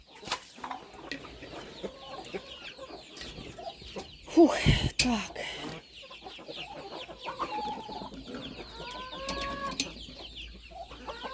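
A hen clucks in short bursts beside chicks, with a loud clattering bang partway through and a few brief spoken words nearby.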